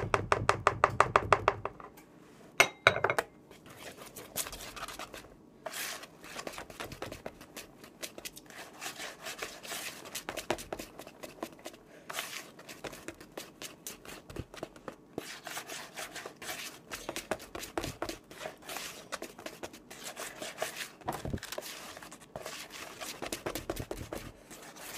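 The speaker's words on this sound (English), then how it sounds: "I am gonna look for a whisk to maybe break down these chunks" A whisk rattles and scrapes through a chunky mixture for a St. Patrick's Day treat, quick irregular clicks and rubs repeating close up for a long stretch, with a few louder knocks early on.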